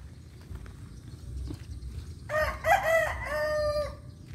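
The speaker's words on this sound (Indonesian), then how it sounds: "Ayamnya mana ayamnya?" A rooster crows once in a rural village setting, a drawn-out call at middle distance rising over low outdoor background noise after a few quiet seconds.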